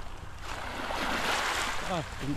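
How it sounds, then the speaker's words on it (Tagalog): Steady rushing surf and wind noise at a beach resort in Surigao fill the scene, close and fairly loud, with a brief voice near the end. "Tubig, dagat na."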